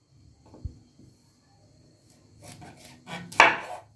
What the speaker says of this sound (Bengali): এগুলো আমি মাঝখান থেকে কেটে দিচ্ছি।